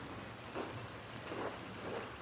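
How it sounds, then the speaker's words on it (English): Steady rain pours through a stormy night in the video game Pentiment, with a few soft low rumbles of thunder rolling under the downpour and no voices. "Some storm, huh? Is it always like this?"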